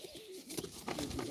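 A pigeon at a live pigeon auction coos softly in a low, throaty warble, a couple of short calls heard close but quiet.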